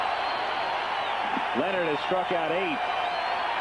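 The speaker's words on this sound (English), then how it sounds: "Listen to that crowd now." Steady roar of a packed baseball stadium crowd during a 1980 American League playoff game, a loud continuous wash under a play-by-play announcer's voice.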